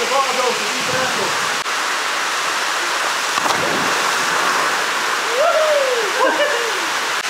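Water rushes down natural rock slides in Apia, Samoa, a loud, dense, continuous roar throughout, with faint voices and brief shouts coming through here and there.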